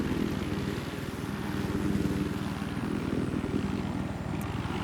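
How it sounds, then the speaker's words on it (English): A helicopter engine in the Battlefield video game drones steadily with a rapid rotor thump underneath, holding an even, fairly close level throughout. "So you don't have to sit there waiting for the engine to spool up."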